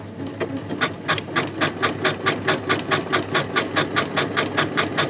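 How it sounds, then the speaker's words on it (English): Janome sewing machine stitching a zigzag with a ribbon and sequin foot, a rapid, even train of mechanical needle clicks over a motor hum, close and steady throughout, with no talk. "So I'm going to start sewing."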